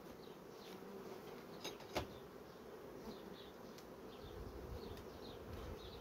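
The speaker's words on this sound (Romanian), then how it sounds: "Albinuțe sunt." Honeybees hum steadily around hives where two swarms have formed, a soft continuous drone with individual bees buzzing past close by, and no voices.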